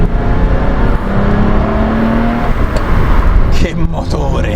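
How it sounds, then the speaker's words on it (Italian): A Ferrari 512 BBi, the first fuel-injected version, has its engine revving loudly and close, a sustained rising and falling drone with a pitch sweep near the end. "Che motore!"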